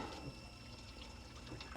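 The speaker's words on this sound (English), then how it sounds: "rinse it in some lukewarm water. Just let it rinse off thoroughly like that" Lukewarm water runs steadily over a postwar model locomotive part as it is rinsed, a continuous close splashing flow at low level with no voices.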